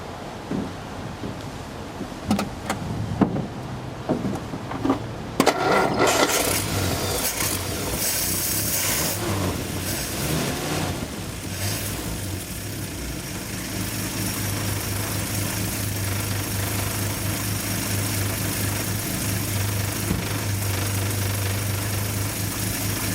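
A Nash car engine turns over with a few clicks and cranks, catches, and settles into a loud, steady running rumble close by that continues without a break.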